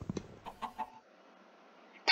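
Chickens in the Minecraft video game give several short, soft clucks in a quick uneven run, followed by a brief pause and a sharper burst at the end.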